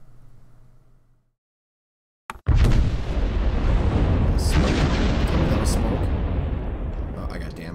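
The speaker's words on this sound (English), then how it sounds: "I got damage in the artillery barrage" An artillery barrage in the Conflict of Heroes war game, opening with a sharp blast after a short quiet, then a loud, sustained roar of explosions and rumbling debris that stays heavy to the end, with speech mixed in.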